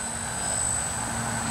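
A DJI Flame Wheel 450 quadcopter flying close overhead, its steady whining rotor buzz loud and continuous with a high motor tone, no talking.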